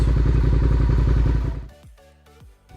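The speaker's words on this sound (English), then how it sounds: "I'll let it go all the way slowly, and the bike will actually move without any gas" A motorcycle idles and creeps forward with the clutch fully out and no throttle, a steady low engine rumble that drops away after about a second and a half, followed by a few faint mechanical clunks.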